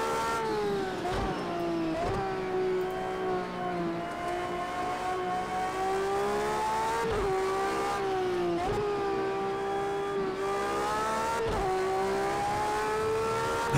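A V12 car engine in the racing game Project Cars 2 revs hard and continuously, its tone climbing and dropping sharply at several gear shifts, loud and steady throughout.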